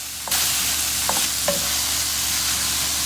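Tinned tomatoes hitting a hot pan of chilli con carne, a sudden burst into a loud, steady sizzle with a couple of faint stirring knocks, close and continuous, no talking.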